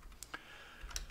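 A few faint, sparse key clicks on a computer keyboard as a short command is typed into a bash terminal, quiet and close with no talk.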